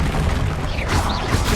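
A spell blast in Hogwarts Legacy: a dense, booming magical burst with a crackling whoosh that fills the moment, loud and close, with continuous rumbling energy and a brief swelling pop near the end.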